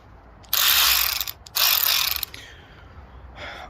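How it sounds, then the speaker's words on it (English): A Matco right-angle 1/4 inch drive ratchet clicks in two loud, close, rapid bursts, followed by a fainter short run of ratcheting near the end. "This is some Matco right angle, I don't know if you can see that or not, right angle 1/4 inch drive ratchet."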